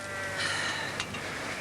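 Cattle low on a farm in rural Scotland, a short, soft moo in the background that rises briefly amid faint outdoor ambience.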